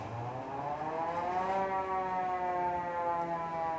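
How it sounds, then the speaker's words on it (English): A 1947 Cadillac ambulance mechanical siren wails continuously, its rising and falling tone sustained for a few seconds, loud and close with no voices. "This first one that I skipped over is a 1947 Cadillac ambulance siren."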